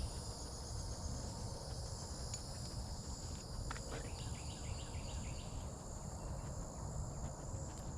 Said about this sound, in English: And the cicadas. The cicadas are out.